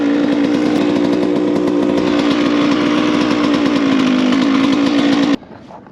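A Suzuki RM125 two-stroke dirt bike engine with an uncleaned silencer and too much oil screams at high revs, loud and close, holding steady before cutting abruptly to a low idle.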